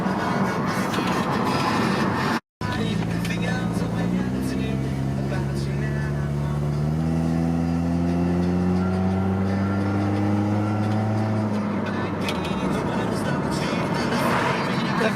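A 1994 vehicle with a newly fitted exhaust accelerates through the gears, its engine drone rising steadily in pitch, dipping at each shift, and climbing again, loud and continuous, with a brief dropout early on.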